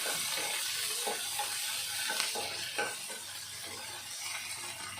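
Garlic, onion and tomato sautéing in a pan, a steady close sizzle with occasional stirring scrapes and clicks, no voices.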